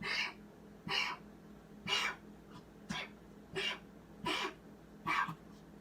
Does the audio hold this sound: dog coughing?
yes